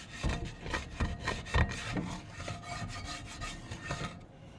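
Steady back-and-forth scrubbing of a cast iron pan with a soft scratcher, a rough, rasping texture, repeated rhythmic strokes close up with no talking.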